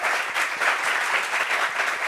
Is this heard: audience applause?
yes